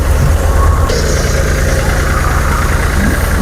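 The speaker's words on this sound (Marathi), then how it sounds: "मशीनची आता मळणी चालू आहे." A steady, loud machine drone with a low rumbling engine throb runs throughout, close by and unbroken, from a threshing machine driven by a New Holland tractor.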